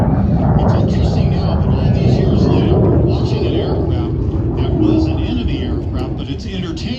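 A MiG-17 jet, a license-built Lim-5, roars past at an airshow with a loud, broad, steady jet rumble that eases slightly toward the end, with someone talking over it.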